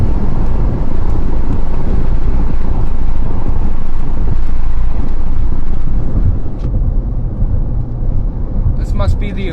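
Strong, gusting wind roars across the microphone during a storm chase beneath tornado-warned cells, a loud, continuous buffeting that eases slightly near the end.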